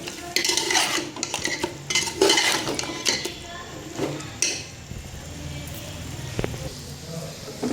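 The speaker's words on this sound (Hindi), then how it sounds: "अब 3-4 मिनट के लिए इसको भूनेंगे।" Meat for degi aloo gosht frying in a pot, with busy scraping and clanking of a metal spoon against the pan over a soft sizzle, loud at first and then settling into quieter stirring.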